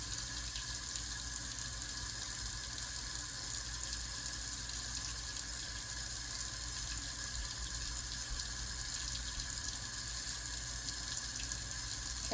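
Tap water runs steadily while dentures are cleaned and rinsed during a nursing assistant lab demonstration, a constant hissing stream with no talk.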